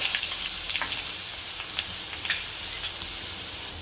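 Mustard seeds, cumin, hing, curry leaves and garlic sizzling in hot oil for dal, a steady close hiss with occasional small pops and crackles, no voices.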